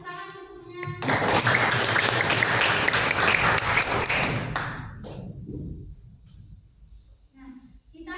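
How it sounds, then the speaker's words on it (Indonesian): Classroom applause breaking out after a short spoken bit, a dense burst of clapping from many students that fades away, followed by quieter talk. "Bagus sekali jawabannya. Tepuk tangan untuknya."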